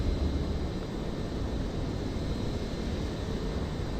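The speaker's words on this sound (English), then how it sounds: "Canada's takeoff roll" Steady broadband jet roar of an aircraft's takeoff roll in the Vatsim flight simulator at Winnipeg, holding level and constant throughout with no voices.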